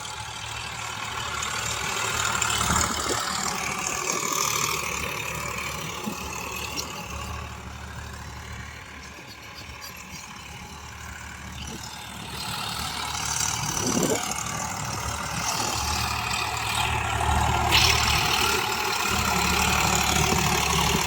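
An Eicher 551 tractor pulling a cultivator through a potato field chugs in second gear, a steady mid-low engine drone at moderate distance, with faint background noise and a voice heard briefly.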